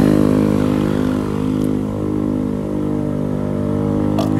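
A motorcycle engine runs on a mountain roadside, a loud, steady, close droning hum with harmonic tones that hold throughout, a couple of faint ticks mixed in.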